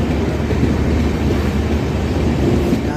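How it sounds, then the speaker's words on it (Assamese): Loud, heavy rumble of a train rolling into Diphu railway station, Assam, close by, a dense continuous roar with faint rhythmic clatter. "ট্ৰেইন আহি পাইছে।"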